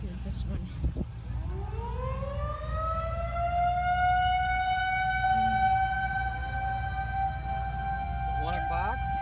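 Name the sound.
tornado sirens, monthly test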